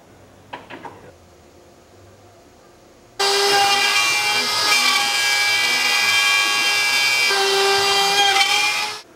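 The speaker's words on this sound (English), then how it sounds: "with the router, router out a profile for the bearing to sit in" A woodworking router cuts a bearing profile into wooden boards for a waterwheel build, starting abruptly after a few quiet seconds with faint knocks, then a loud, steady high-pitched whine that holds until it cuts off at the end.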